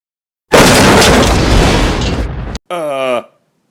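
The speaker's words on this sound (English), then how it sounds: "So there was a huge explosion" A huge cartoon explosion in a Ghostbusters bedtime story bursts out loud and close as a long roaring blast, then cuts off abruptly before a short, high, warbling effect follows.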